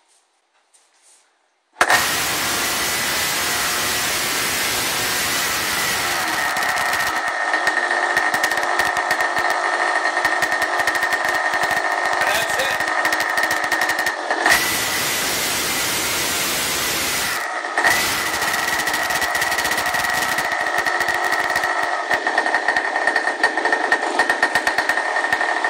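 A model Sky Bolt biplane's small glow engine starts abruptly and runs loud and steady with a buzzing drone, briefly cutting out twice before picking back up at throttle.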